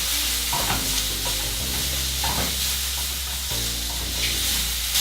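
Garlic and mushrooms fry with balsamic in a pan, a steady loud sizzle punctuated by occasional stirring scrapes throughout.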